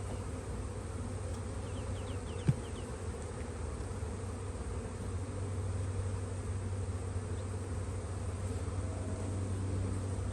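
Honeybees buzz in a steady, dense drone throughout a spring hive inspection, close and continuous, with one brief knock partway through and no talking.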